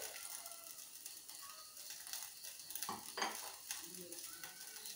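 Dosa batter on a hot pan sizzling softly after a drop of coconut oil is added, a faint continuous crackle with light utensil clinks.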